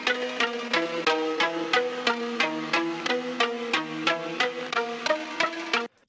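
An OP-1 synthesizer plays a rapid, dense run of repeating notes through a delay effect moved by its gyroscope, so the echoes smear and overlap into a shimmering wash that holds steady for about six seconds before stopping.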